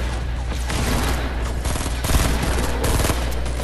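Rapid bursts of gunfire in Fortnite Battle Royale, loud and close, overlapping into a dense volley of shots with a heavy low boom underneath.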